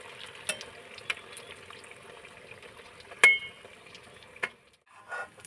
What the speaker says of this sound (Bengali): এইভাবে বাকি সবগুলো ভেজে নিয়ে আসছি